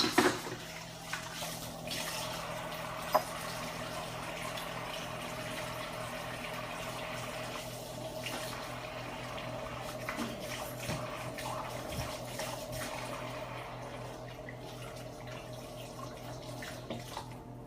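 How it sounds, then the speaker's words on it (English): Running tap water flows steadily into a sink while hands are washed, a continuous hiss and splash heard close and unbroken with a couple of small knocks, and no talking. "Go ahead and wash your hands, because you're going to have greasy fingers if you don't"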